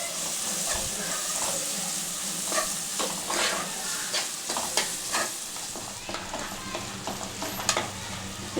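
Onions and ginger paste fry in a pan with a steady close sizzle, broken by repeated scrapes and clicks of a spatula being stirred through them.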